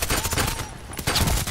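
Rapid bursts of automatic gunfire from a weapon in the shooter game Contract Wars, loud and close, firing in two quick sustained volleys with a brief gap between.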